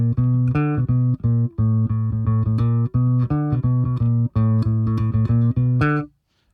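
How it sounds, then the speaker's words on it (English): Bass guitar walks a steady line of evenly spaced plucked notes, close and loud, with brief gaps between phrases before ending abruptly. "So it'd be a walking bass line."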